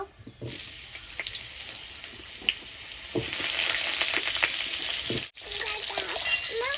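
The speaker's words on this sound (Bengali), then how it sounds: "এবারে আলুটা আমি ভেজে নেব" Potatoes sizzle in hot oil in a pan for a shukto, a hiss that swells louder partway through, with a few faint knocks and no voices.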